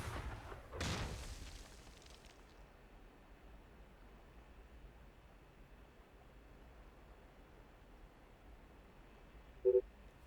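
Anti-tank rocket launched in the Ghost Recon video game, a single loud whooshing boom at the start that fades into a long quiet hiss, followed later by a brief beeping tone.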